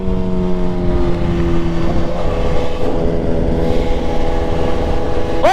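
A BMW S1000RR sport motorcycle cruises along with a steady, loud engine drone and strong harmonic tones, rising slightly at the end, with constant road and wind rush and no talk.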